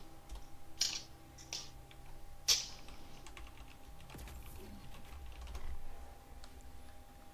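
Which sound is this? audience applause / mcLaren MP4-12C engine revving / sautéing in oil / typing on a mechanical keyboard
typing on a mechanical keyboard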